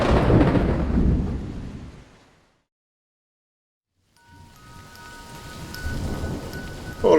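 A stormy night of heavy rain with rumbling thunder comes as a loud, dense hiss and low roar that fades out, breaks into silence, then builds back in to a full downpour.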